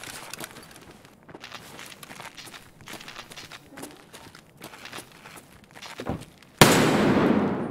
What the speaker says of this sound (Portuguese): Olha o Kevin dando tiro pro alto.